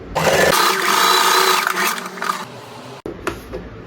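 A sewing machine runs steadily, stitching tucks into a blouse for a 30-inch chest deep-neck design, a loud continuous whir for about three seconds before it stops with a brief clunk and light handling of the fabric.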